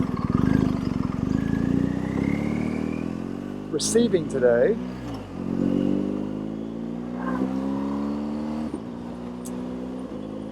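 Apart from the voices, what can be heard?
delivery truck driving past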